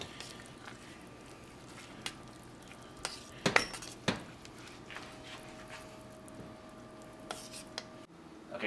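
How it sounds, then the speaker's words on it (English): A spoon stirring coconut pecan cake filling in a bowl gives soft squishy scraping and occasional sharp clinks against the bowl, scattered over about eight seconds at a fairly quiet level. "we'll just mix this around with our spoon"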